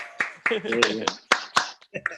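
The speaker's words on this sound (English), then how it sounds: "we should all just start applauding" Several people on a Zoom call clap in scattered, uneven bursts over about two seconds, with a voice speaking between the claps.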